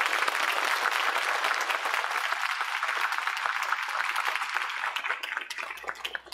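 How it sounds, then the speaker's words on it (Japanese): A hall audience at a public debate for Akune city mayoral candidates in Japan gives sustained, dense applause, many hands clapping steadily before it gradually thins toward the end. "今一度候補者の皆様に盛大な拍手をお願いいたします。"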